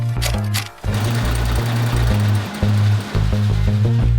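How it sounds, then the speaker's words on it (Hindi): A computerized embroidery machine stitches a design onto the back pocket of factory-made jeans, producing loud, rapid mechanical chatter in repeated bursts with brief pauses and shifts in pitch. "कंप्यूटराइज्ड एम्ब्रॉयडरी मशीन से बैक पॉकेट पर एम्ब्रॉयडरी करी जाती है।"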